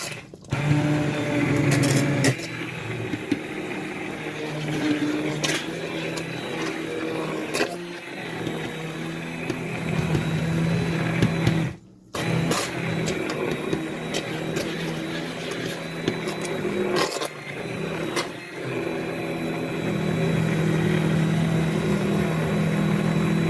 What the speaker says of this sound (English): Let's make sure we get every single bit blended up.